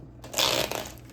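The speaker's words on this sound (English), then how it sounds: "Why am I shuffling again?" Tarot cards riffle-shuffled in one short, soft papery burst that swells and then trails off, heard up close with no talking.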